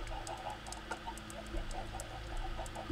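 Several chickens cluck in short, scattered bursts in Minecraft, moderately near over a low steady background hum, with no talking.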